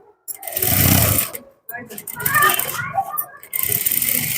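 An electric sewing machine runs in bursts while stitching a size 32 designer blouse, the fabric held flat with both hands, loud and close with short pauses between runs.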